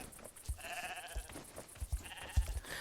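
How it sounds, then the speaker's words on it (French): A sheep in a video game bleats in short, wavering calls, several soft bleats in a row over a busy backdrop of light thumps and game sounds, with no talking. "N'empêche, il est drôlement mignon, ce mouton."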